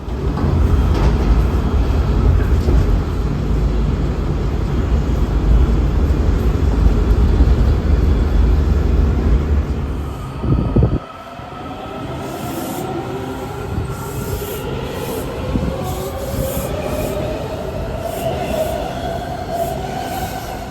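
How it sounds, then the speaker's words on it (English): A metro train rumbles loudly along the tracks while climbing a steep ramp, then the heavy low roar drops away and continues as a steadier, quieter running noise with faint high wheel squeals. "our metro train climbs up a very steep ramp"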